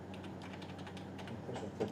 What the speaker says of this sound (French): Tu appuies une fois sur tabulation.